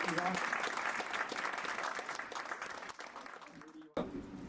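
Audience applause after a branding talk, steady broadband clapping from a crowd for about four seconds that fades and is briefly cut off near the end, with a little voice mixed in.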